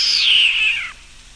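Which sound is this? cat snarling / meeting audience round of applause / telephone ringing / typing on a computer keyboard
cat snarling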